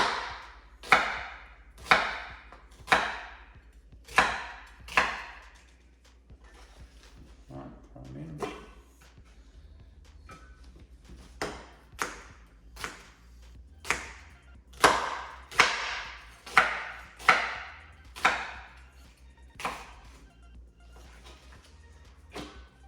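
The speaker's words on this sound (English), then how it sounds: "I'm going to cut them into like skinny wedges." A knife chops vegetables into skinny wedges on a board for chicken katsu, striking in steady rhythmic bursts of sharp, close knocks with a short pause midway.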